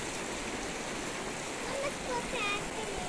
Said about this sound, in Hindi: ये है नदी, बहुत ज्यादा ही तेज बहाव है।